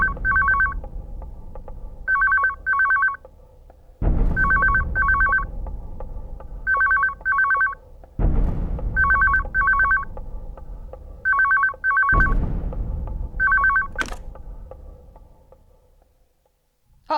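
Telephone ringing in a Hindi film scene, loud electronic double rings in a steady repeating pattern, each pair of bursts separated by short pauses, with occasional thuds between them and no talking.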